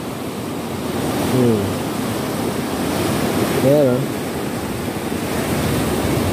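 Sea waves wash onto a beach littered with flood-borne garbage, producing a steady broadband surf roar with wind noise, while someone speaks briefly over it.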